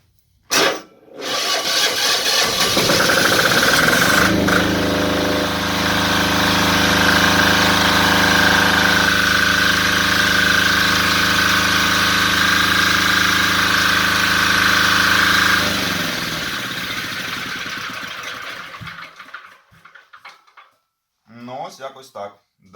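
A starter whirs and an electric-start engine catches, running loud and steady at idle with a metallic rattle for several seconds before shutting down, powering concerts at a club during emergency power outages.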